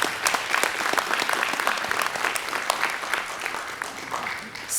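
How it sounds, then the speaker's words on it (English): An audience at a 2019 skills-program graduation ceremony gives the graduates a big round of applause, dense steady clapping throughout, fairly loud and filling the room. "I think that demands a big round of applause tonight"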